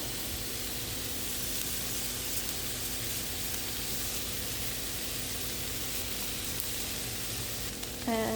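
Meat fries in a pan, giving a steady, close, even sizzle that continues alone throughout, with a brief clatter near the very end.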